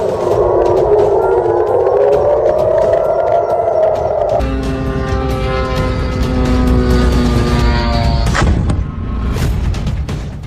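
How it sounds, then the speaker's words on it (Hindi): An air raid siren at a US airbase in Jordan wails loud and rising. It then shifts to a layered, sustained tone over heavy rumbling noise, with a harsh burst near the end. "जॉर्डन में सायरन अलर्ट पर यूएस एयरबेस।"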